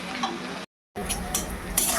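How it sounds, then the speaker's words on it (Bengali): Chopped onion sizzles in hot oil with ginger and garlic paste and green chillies in a pan for mutton pulao, a close crackling broken by a brief gap and by clinks of a stirring spoon. "সেটাকে আগে ভালো করে ভেজে নিই পেঁয়াজটাকে"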